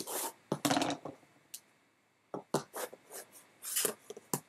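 Rotary cutter or blade trimming quilting fabric half-square triangles on a cutting mat, a series of short close raspy cutting strokes in bursts, with quiet pauses between.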